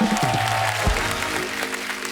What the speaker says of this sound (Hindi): अब आनंद मिलिंद जी के लिए डबल तालियां हो जाए।